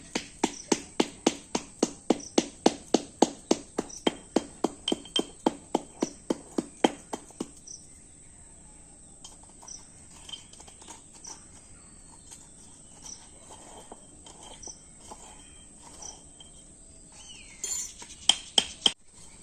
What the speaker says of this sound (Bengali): এবার এটা ভালো করে গুঁড়ো করে নেব